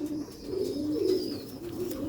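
Sialkoti pigeons coo softly in a low, rolling murmur, a brief close call with a faint higher tone above it and no voices.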